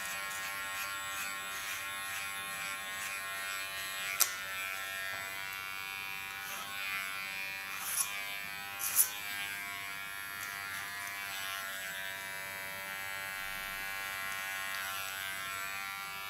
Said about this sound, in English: Again, use my clipper as a comb.